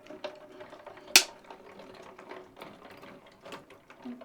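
A hand-cranked die-cutting machine feeding a paper sheet through its plates, giving a short run of ratcheting mechanical clicks with one sharp louder snap near the start, close and fairly quiet, with no talking.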